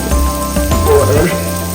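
Rice with sausage and sardines, infused with sazon, sizzles in the pan while being stirred, with a steady close frying hiss and a few scraping spoon strokes throughout.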